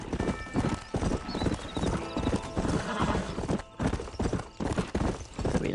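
A horse's hooves clip-clop in a fast, steady rhythm on a trail in the video game Red Dead Redemption, loud and close, with a short whinny breaking in partway.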